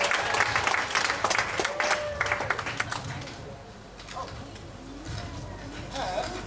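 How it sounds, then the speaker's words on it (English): Audience applause at the BetelNut venue in Ubud, Bali during a PechaKucha Night: a burst of clapping that fades after a few seconds into crowd chatter and room noise. "So please give a big applause."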